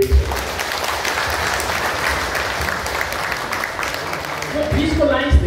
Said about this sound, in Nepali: जोडले ताली बजाइदिन्छ